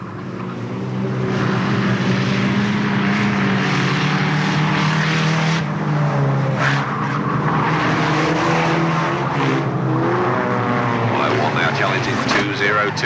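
Race cars at Alwalton Raceway in 1983 roar past the starters rostrum, a loud, continuous engine drone with shifting pitch as the pack goes by, under steady commentary.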